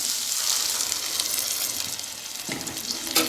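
Coconut paste stirred into okra and tomato frying in a pan for a tamarind curry, giving a steady close sizzle with stirring scrapes, alone without talk.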